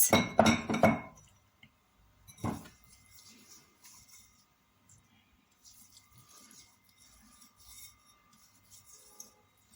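Ceramic or glass bowls clink as a thick cooked mixture is divided among them, with a quick cluster of bright chinks, a single knock a moment later, then quiet scraping and rubbing.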